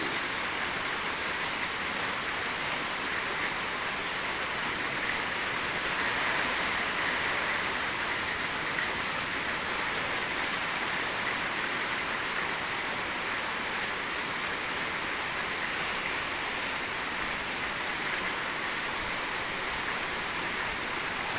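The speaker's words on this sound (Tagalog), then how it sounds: "Sobrang baha ngayon, lakas baha. Ulan, hangin." A steady, dense roar of heavy typhoon rain and wind in Dinalupihan, Bataan, Philippines, with a constant broadband wash, unbroken and uniform throughout, no voices.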